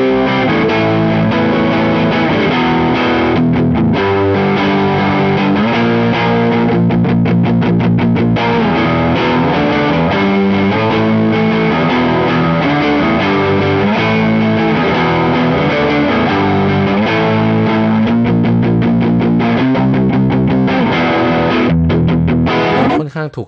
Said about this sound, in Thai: เสียงแตกโอเวอร์ไดรฟ์ของ Jazz Master